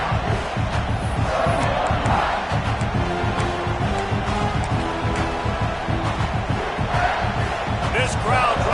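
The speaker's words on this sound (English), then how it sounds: "This crowd trying to make life miserable for this offense." Stadium crowd in College Football 26, a loud, dense roar filling the whole stretch with swelling noise and rhythmic chanting or stomping, while a commentator's voice talks over it.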